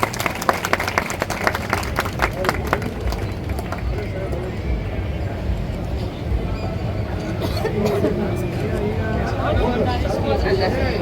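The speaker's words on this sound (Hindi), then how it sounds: "निदेश दीदी का स्वागत जोरदार तालियों के साथ" An audience applauds loudly to welcome someone speaker at a public gathering, with sharp, rapid claps early giving way to a dense, steady roar of clapping and crowd noise, with voices mixed in.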